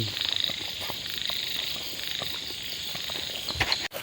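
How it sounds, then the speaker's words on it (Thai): Frogs croak in a dense, pulsing chorus at night outdoors, backed by steady insect trilling, with a brief rustle near the end. "กบครับกบ กบกบกบ"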